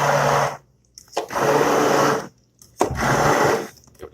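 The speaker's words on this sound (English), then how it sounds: "I'm just gonna pulse that a little bit more" Tomatoes for pizza sauce pulsed in a blender, three loud whirring bursts of about a second or more each, separated by short pauses of near silence.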